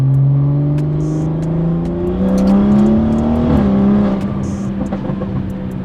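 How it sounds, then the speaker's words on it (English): A BMW B58 engine in a family sedan produces strong intake induction noise as it accelerates. The close, humming engine tone climbs steadily in pitch, then eases off near the end. "There's a whole lot of induction noise going on."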